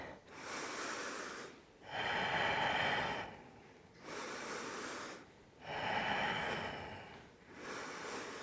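Slow, deep breaths during a sweaty yoga strength workout: four long, audible airy exhales and inhales alternate in a steady rhythm, close to the mic and without speech.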